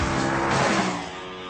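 Ascari A10 carbon-fibre supercar with a 5-litre BMW M5 V8 driving hard, a loud close engine roar with a burst of tyre noise that fades slightly toward the end.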